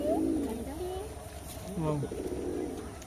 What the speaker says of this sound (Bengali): খুব সুন্দর কবুতর আছে লম্বা সাইজের